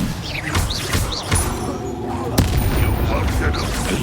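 The Incendio fire spell in Hogwarts Legacy bursts out as a loud whooshing blast amid booming combat impacts and crackles, with spoken voices over the busy battle noise.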